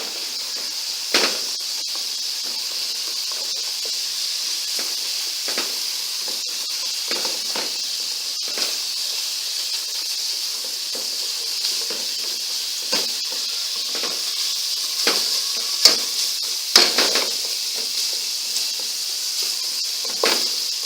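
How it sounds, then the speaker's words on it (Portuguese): Onion fries in a pan on a home stove, giving a steady bright hiss and sizzle. Irregular soft scrapes and clicks from stirring recur throughout. "Mexer a cebola."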